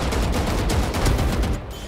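Rapid gunfire from the video game Valorant rattles in a dense, loud burst of repeated shots lasting under two seconds.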